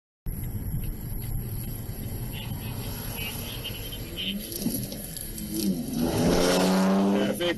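A car speeds away during a police pursuit. Rumbling road and cabin noise builds into a loud engine surge that rises sharply in pitch near the end.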